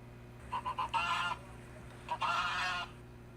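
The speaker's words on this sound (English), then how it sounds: "the honking birds dubbed geese agents" Geese that patrol a Brazilian prison honk in two loud bursts, a quick run of short calls followed by a longer honk, heard alone over a steady low background hum.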